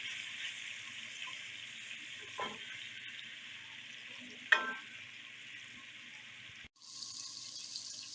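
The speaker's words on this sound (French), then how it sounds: "Je vais laisser la viande être bien grillée." Meat browning in a pan with five spices for a potato stew, a steady soft sizzle with a couple of brief clinks of stirring, cutting out briefly near the end before resuming.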